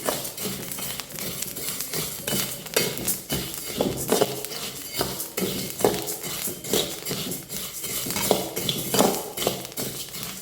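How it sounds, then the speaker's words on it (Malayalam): Rice mixture roasting in a pan under constant stirring, giving a busy run of scraping, clinking and gritty crackle that keeps going with irregular sharp hits throughout. "കൈ വിടാതെ നമ്മൾ ഇളക്കിക്കൊണ്ടിരിക്കണം"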